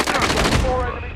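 Rapid automatic gunfire in Call of Duty Modern Warfare, a dense loud burst of shots lasting about a second, close and dominant, fading out at the end.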